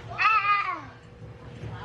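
A pet cat gives one clear, drawn-out meow near the start, close and fairly loud, then quieter room sounds follow.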